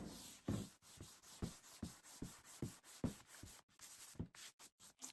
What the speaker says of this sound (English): I hand sanded everything with a 220 grit sandpaper